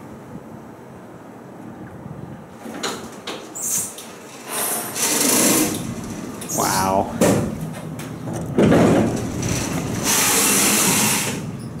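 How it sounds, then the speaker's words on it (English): A worn 1980s Otis hydraulic elevator door in a St. Louis parking garage grinds and scrapes harshly in long rough bursts, loud and near, with a man briefly exclaiming over it. "Just listen to that door. I mean, really. It's like getting scraped."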